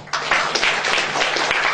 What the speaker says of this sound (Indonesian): Tepuk tangan untuk saya loh